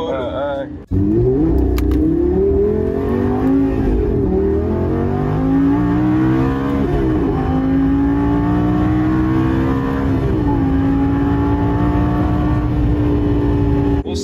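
A Lamborghini Gallardo LP 550-2 V10 accelerates with a loud, sustained engine roar that climbs in pitch through the gears, heard from inside the car.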